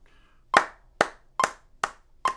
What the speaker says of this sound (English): So if I was clapping that, 1, these are the quarter notes on each beat.